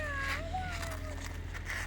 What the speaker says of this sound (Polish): czyli to jest kot